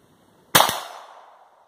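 A single sharp crack from a Browning Buckmark pistol firing .22 LR over a chronograph, close and loud, with a short echoing tail fading over a second.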